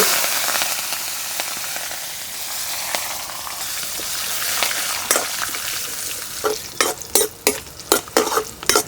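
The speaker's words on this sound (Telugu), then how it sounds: "పది వెల్లుల్లి రెబ్బలు వేసేసుకుందాం చెంచా ఆవాలు చెంచా జీలకర్ర కరివేపాకు" Garlic cloves, mustard seeds, cumin and curry leaves frying in a few spoons of oil, a loud steady sizzle that turns into a rapid series of sharp crackles and pops near the end.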